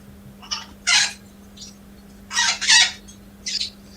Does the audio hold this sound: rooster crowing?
yes